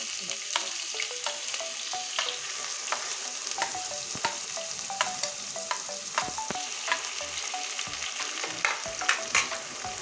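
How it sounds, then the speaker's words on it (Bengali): Chopped onions fry in hot oil with cumin in a pan, a steady close sizzle running throughout with frequent light scrapes and clicks of a stirring spoon, no voices. "পেঁয়াজটা আমি লাল করে ভেজে নেব"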